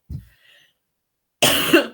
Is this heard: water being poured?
no